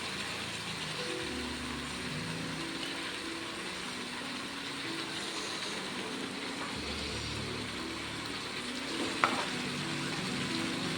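Broad beans and tomatoes for a Telugu curry sizzle steadily in a pan, a continuous close frying hiss with a faint low rumble underneath and one small clatter near the end.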